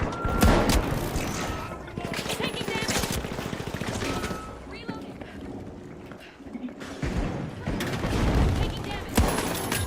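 Explosive blasts and heavy gunfire from a StarCraft 2 battle, with loud booming bursts early and late around a dense, continuous clatter of shots; game voices speak over the noise.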